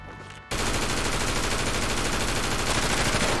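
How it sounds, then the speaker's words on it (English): Sustained automatic gunfire erupts after a brief quiet lead-in during a Grand Theft Auto roleplay street shootout, loud, dense rapid bursts filling the rest of the moment with no pause. "I still hear the gunshot."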